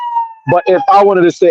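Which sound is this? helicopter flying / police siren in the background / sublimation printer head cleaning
police siren in the background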